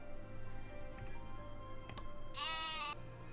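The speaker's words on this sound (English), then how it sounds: "It was the same sheep noise." A stock sheep bleat sound effect from the video game Fuga: Melodies of Steel 2, a single clear bleat lasting about half a second, preceded by faint ticking over steady low game background hum.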